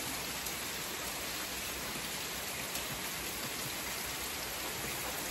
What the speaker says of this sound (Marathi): पावसाचा तुम्ही आवाज ऐकू शकता.